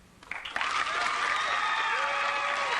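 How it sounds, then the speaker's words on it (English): Studio audience at a 1980s game show breaks into applause, building quickly from scattered claps into a steady, sustained wave that holds loud and even to the end. "Audience, applaud if you think he's bluffing."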